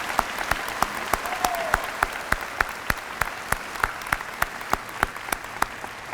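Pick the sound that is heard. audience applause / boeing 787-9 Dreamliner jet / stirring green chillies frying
audience applause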